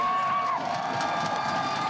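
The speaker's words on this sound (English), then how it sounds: "this Pittsburgh crowd starting to get on this Omaha offense" A Pittsburgh crowd roars at an American football game, a loud, continuous wash of cheering and shouting voices that holds steady and close for the whole moment.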